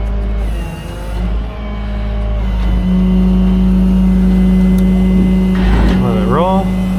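A Ram 2500 pickup idles steadily in reverse, a low engine drone running throughout with a faint hum layered on top, while a person talks briefly near the end.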